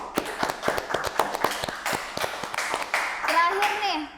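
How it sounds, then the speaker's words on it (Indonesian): A talk-show audience clapping for a content creator, sharp individual claps in a loose, sparse rhythm, close by and with voices talking near the end. "Berikan tepuk tangan dulu untuk Agung"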